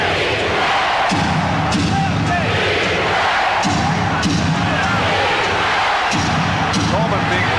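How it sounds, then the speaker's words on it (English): Basketball arena crowd at a 1993 NBA playoff game, Nets at Cavaliers, chanting defense in a rhythmic repeated pattern, loud and dense throughout with broadband crowd roar beneath. "Defense from the crowd with 6:40 remaining."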